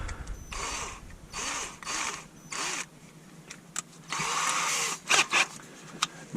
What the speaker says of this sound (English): we'll get out the spot weld cutter.